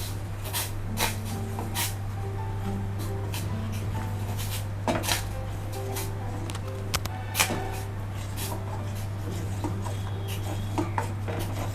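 Rice flour batter is stirred in a pan over a slow flame while more mixture is poured in. Irregular knocks and utensil clacks land against the pan over a steady low hum, close and moderately loud.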